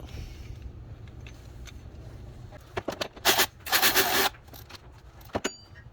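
An idler pulley bolt on a 2005 Ford Ranger V6 is tightened, with quiet mechanical fumbling followed by two loud bursts of rapid ratcheting and scraping in the middle, then a few short clicks.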